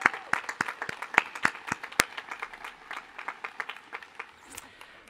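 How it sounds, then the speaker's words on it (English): A crowd at a commencement ceremony claps steadily for several seconds, the sharp hand claps dense and even, with a voice faintly underneath. "let's give them a round of applause for their tireless service"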